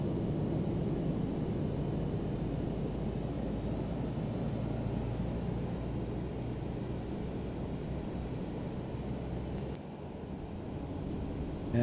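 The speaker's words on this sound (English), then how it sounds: "I want you to hear the sound of this plane." A steady broadband jet engine roar spools up and holds, a simulated Airbus A320 airliner engine in a flight simulator running continuously with a brief dip near the end.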